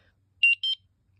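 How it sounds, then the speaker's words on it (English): Two short, bright electronic beeps from a Sky Link SC-001 security keypad signalling ready, close and clean against near silence. "I like how the beep is. That beep is pleasant."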